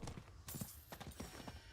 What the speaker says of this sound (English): My horse is out of gallops.